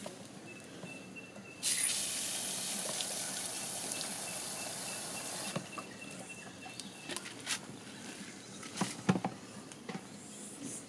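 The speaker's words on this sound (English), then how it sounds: "Fill with a bit of water, just to rinse it." Water splashes and sloshes inside a caravan toilet cassette being rinsed, a broad steady rush for a few seconds, then scattered knocks and gurgles as the container is tipped and shaken.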